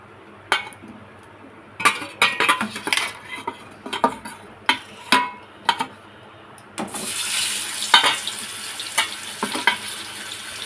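Hilsa fish pieces go into mustard paste in a pan, with a run of close clanks and scrapes of utensils, then a sudden steady sizzle with more scattered knocks on top.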